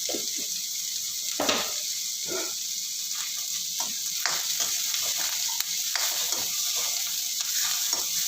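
Dried red chili frying in a pan for chana masala gives a soft, faint sizzle, broken by irregular scrapes and taps of stirring.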